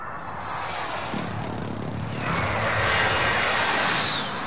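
An airstrike aircraft in a video game roars overhead, its engine noise swelling steadily and peaking loud before starting to fade.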